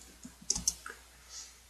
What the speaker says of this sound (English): So you can type in January